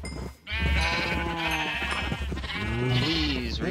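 Minecraft sheep in a Sky Factory world bleat in a run of drawn-out, wavering calls one after another, loud and close, with no talking over them.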